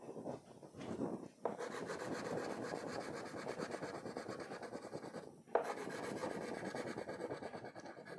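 A pink crayon rubs steadily across paper in even back-and-forth strokes, a continuous close raspy scratching with brief pauses as the crayon lifts.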